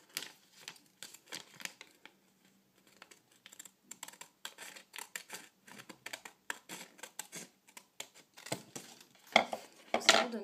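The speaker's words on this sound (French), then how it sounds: "Donc cette fois-ci, on va couper notre petit papier." Scissors snip paper up close for a homemade makeup storage project, making a quiet, irregular run of rapid crisp clicks and cuts that grows louder near the end.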